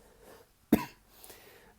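A man with a post-COVID cough lets out a single short, sharp cough in a quiet room, followed by faint breathing.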